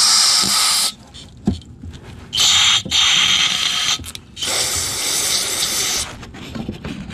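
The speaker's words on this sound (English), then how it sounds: "We're gonna spray some carb cleaner in the hole here." An aerosol can of carb cleaner sprays through a straw into a Tecumseh snowblower engine in loud, hissing bursts of varying length, close by, separated by short pauses with light clicks and handling noises.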